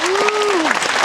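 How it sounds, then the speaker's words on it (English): An audience breaks into applause for a new tractor during a presentation at the Homesteaders of America 2019 gathering. The clapping is a dense, close burst with a voice rising briefly above it. "applaud the tractor, okay?"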